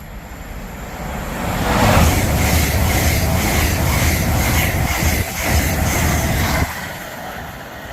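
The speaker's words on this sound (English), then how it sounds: "the next train to pass by is going to be a LNER Zoomer." A loud LNER Azuma express train on the East Coast Main Line at Biggleswade rushes past close by, its roar building and holding for several seconds with rhythmic clatter before cutting off abruptly.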